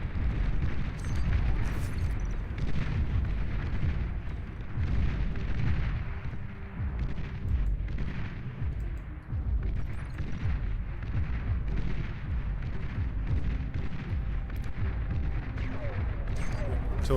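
Artillery guns fire in a strategy video game: dense, continuous low booms and rumbling blasts overlap steadily at a moderate distance, forming a heavy barrage that rarely lets up.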